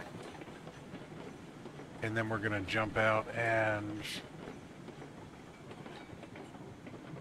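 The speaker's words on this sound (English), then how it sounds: "Now I'm going to bring the train down towards the end of where I finished my track work." A train rolls along tracks in the game Railroads Online, a steady low rumble running throughout while someone talks briefly over it.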